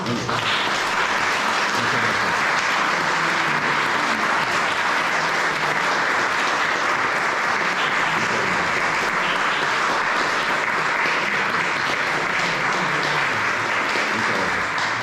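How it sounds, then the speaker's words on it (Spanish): Conference attendees applaud the speaker José Luis Cardero at the close of his talk, a long, even roar of clapping that continues at full strength without pause. "damos un aplauso"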